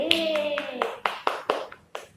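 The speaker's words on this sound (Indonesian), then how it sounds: "Kita tepuk tangan untuk kita semua" A group claps along at the end of a children's song in a classroom lesson, with a sung tone fading before a series of distinct claps at a steady, somewhat uneven rhythm.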